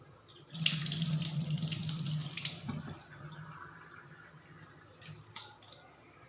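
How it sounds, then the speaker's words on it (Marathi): Rice is washed in clean water at a sink: a tap runs steadily for a couple of seconds, then quieter swishing and a few sharp clinks of a pot or vessel follow, with no speech. "स्वच्छ पाण्याने धुवून टाकणार आहे तांदूळ।"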